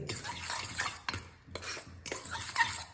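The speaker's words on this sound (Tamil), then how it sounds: "பெப்பரும் உப்பும் கலந்து வச்சுருக்கேன் இதில் அதை போட்டு நல்லா கலந்துட்டு" Beaten egg with pepper and salt stirred in a bowl, a quick scraping, clinking utensil rhythm in short bursts with brief pauses, close and fairly quiet.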